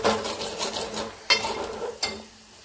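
Spoon stirring and frying spices in a pan after turmeric, salt and cumin powder go in, a steady close scraping sizzle with a couple of sharper clinks.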